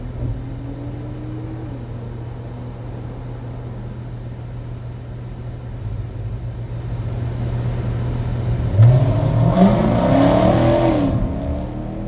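A Jaguar XFR's engine drones steadily on a track-day lap at Goodwood, heard from inside the car, then swells into a harder, rising rev toward the end before easing off slightly.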